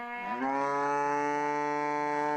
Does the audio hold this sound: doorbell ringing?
no